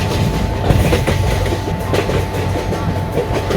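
A train pulls into Vadodara Junction in an Indian train simulator game, a loud, continuous rumble with rhythmic wheel clatter and no talking.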